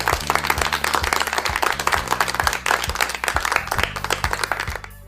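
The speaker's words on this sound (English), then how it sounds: "You deserve a resounding applause." Applause sound effect: dense, steady clapping from a crowd, loud and continuous with a faint repeating rhythmic thump underneath, no voices.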